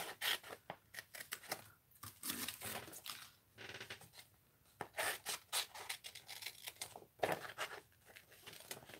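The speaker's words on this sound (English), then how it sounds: "I'm doing the fussy cut as fast as I can here." Scissors snipping quickly through paper while fussy-cutting a printed image, a rapid run of close, crisp cuts and crinkles in irregular bursts with short pauses, no talking.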